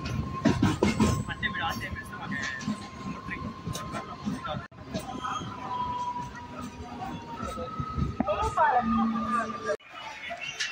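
A MEMU express train rolls through Hosur station in a loud, continuous rumble with tonal horn-like whines and station noise, and voices sound in the background.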